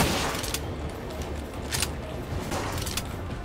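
Rapid gunshots from the video game Palworld crackle in a steady barrage, loud and continuous over a dense background of game noise.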